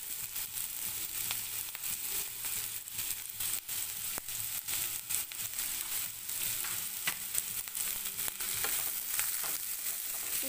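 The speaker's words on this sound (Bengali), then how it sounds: "এখানে 3-4 মিনিট লাগবে আমার গাজরটা ভাজতে।" Soaked carrots sizzling in a pan for fried rice, a continuous bright frying hiss broken by scattered stirring clicks and scrapes, close and steady with no talking.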